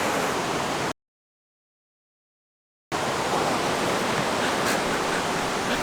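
A cold outdoor stream flows with a dense, steady rush of water, loud and close, broken by a silent gap of about two seconds before resuming, with no talk.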